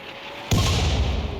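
Mortar artillery fire in the RimWorld video game: a single sudden heavy boom with a rumbling low tail that lingers for about a second, alone with no talk.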